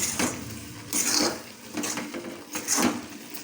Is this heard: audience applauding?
no